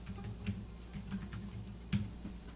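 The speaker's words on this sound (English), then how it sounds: "someone making gentle keyboard noises" Gentle, quiet keyboard typing comes through an online audio link, soft irregular key clicks at a low level with a couple of slightly louder taps.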